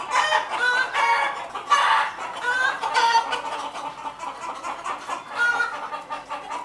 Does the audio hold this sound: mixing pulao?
no